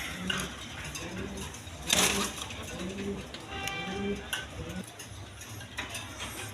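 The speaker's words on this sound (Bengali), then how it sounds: "এখানে এক পেয়ার ডাউগা কবুতর আছে।" A pair of Dauga pigeons at a pigeon farm gives soft cooing and fluttering sounds, mixed with clicks and rustling, with a louder burst near the start.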